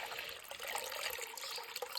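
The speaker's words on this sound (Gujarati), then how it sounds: "આપણે પાણી નાખી દેવી" Clean water is poured into a sparrow's water pot, making a soft, continuous splashing trickle heard close by at low volume.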